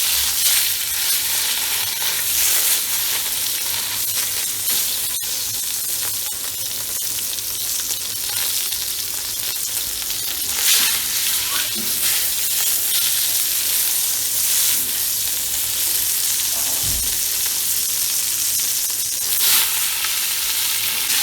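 Beef seared in three spoonfuls of hot olive oil in a pot gives off a steady, loud sizzle and crackle that lasts throughout, with no talk over it.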